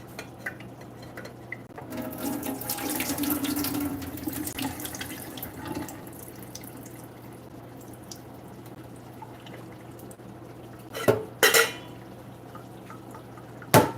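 Tap water runs into a kitchen sink while food is rinsed and drained for chili, a splashing flow in the first seconds, then quieter trickling and drips, with a few sharp clanks of a pot or strainer near the end.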